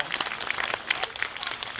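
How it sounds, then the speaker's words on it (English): Applause from an audience thanking the church members who made the desserts, steady dense clapping sustained throughout at moderate loudness, no voices over it. "please just give them a round of applause"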